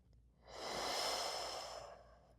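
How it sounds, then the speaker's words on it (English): One slow, deep breath drawn in and let out during a birth-prep pelvic exercise, a soft airy rush that swells and fades over about two seconds, close and quiet, with no talking. "take a few deep breaths into my back"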